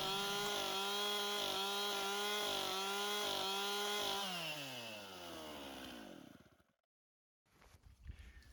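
A chainsaw roars steadily at close range, its engine pitch dropping as it bogs into a log, then it cuts out into silence before faint handling noises.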